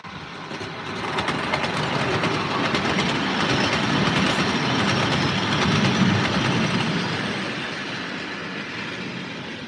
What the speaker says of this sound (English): It really does capture the sound of a real railway there